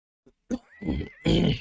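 A horse in the city-building game Settlement Survival gives a short snort followed by a rising whinny and a loud, rough final neigh, close and clear with no talking.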